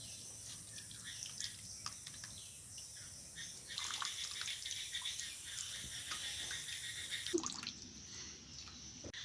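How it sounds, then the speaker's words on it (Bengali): Soaked soybean chunks are wrung out by hand over a bowl for a chilli soybean dish, giving a close, quiet patter of dripping and trickling water that comes and goes, with no talking. "সয়াবিনটা ঠান্ডা হয়ে গেছে, এবার আমি জল নিংড়ে অন্য একটা পাত্রে তুলে নেব।"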